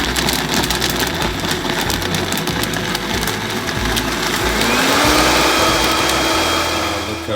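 A blender whirs steadily, mixing a protein smoothie of protein powder, cinnamon, berries and sunflower butter. The motor is loud and continuous throughout, its pitch rising slightly near the end, with no talk over it.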